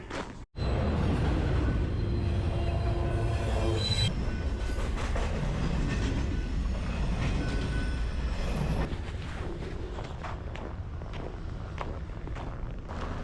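A train rolls past at close range in Calgary, its loud steady rumble and clattering wheels filling the whole stretch before easing slightly toward the end, with no voices.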